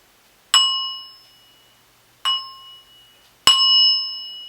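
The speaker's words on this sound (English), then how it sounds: "if I tap this bowl, you hear a sound" A metal bowl is tapped three times, each strike giving a bright, clear ring that lingers and fades before the next.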